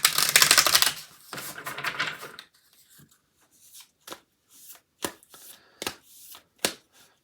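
Oracle cards from a light activation deck are shuffled by hand: a dense riffling burst, then a longer slide, and several soft separate taps and flicks as cards are handled up close, quiet with no talking.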